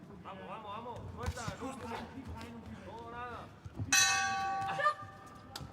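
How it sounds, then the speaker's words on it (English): At the youth world boxing championships in Kielce, a ring bell rings loud and sustained for about a second, ending a round, after stretches of commentator talk and arena noise. "there goes the bell"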